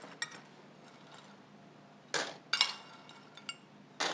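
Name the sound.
removing baking papers and bean pie weights from tart shells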